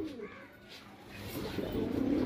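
Pigeons coo in a loft where a male and female pair are being shown, a low murmuring coo rising in loudness toward the end amid faint rustling.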